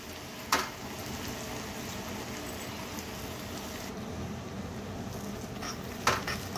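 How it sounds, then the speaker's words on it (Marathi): Ground garlic and dried red chillies fry in hot oil in a pan, a steady close sizzle with a couple of sharp clinks of a spoon or utensil. "आपल्या लसूण जो आपण वाटून घेतला होता तो यात घालायचा आहे आणि 3-4 मिनिटं व्यवस्थित आपल्याला तळून घ्यायचं आहे"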